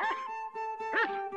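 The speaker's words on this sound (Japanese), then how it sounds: "定六には白という雪のように真っ白な一匹の猟犬がいました。" A white Akita hunting dog in an animated Japanese folktale gives a short series of yelping barks and whines, close and clear over a steady musical drone.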